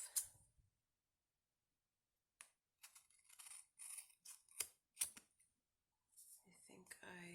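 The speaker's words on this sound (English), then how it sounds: "And trim the extra off." Scissors trimming the excess from paper for a handmade bird card, a run of crisp close snips and clicks in quick bursts after a quiet pause, with some soft handling noise.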